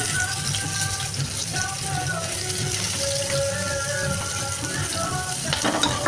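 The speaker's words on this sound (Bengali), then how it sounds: "শ্যারকুটি মাছ ভেজে ভর্তা করব তো আমার মামাতো বোন আম্মু শ্যারপুটি মাছ খায় না এই কারণে আমি তো মাছগুলো ভেজে নিচ্ছি" Sharputi fish sizzle as they fry in a pan, a steady, moderately loud crackle with a watery hiss that holds all the way through, with faint tonal sounds above it.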